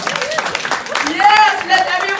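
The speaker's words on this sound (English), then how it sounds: "can you clap for them?" Audience applause for National Geographic at a G Diaries Seas event, a short burst of clapping under a voice and a tonal sound that rises over it.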